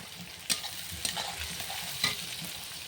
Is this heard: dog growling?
no